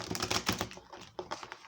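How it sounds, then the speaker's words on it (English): Quick bursts of crisp tarot card riffling and flicking, several rapid clacks in a row, close and fairly quiet. "One more shuffle here, guys."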